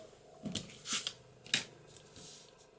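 Paper being trimmed for a handmade card, heard as a few short, crisp snipping and rustling bursts close by in a quiet room, spaced irregularly with brief pauses between them.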